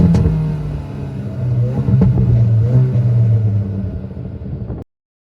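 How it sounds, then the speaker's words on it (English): A Hyundai i20N hot hatch's engine and exhaust rumble close by, rising and falling through revs with crackles before cutting off abruptly near the end. "one of the best things about the car is the noise"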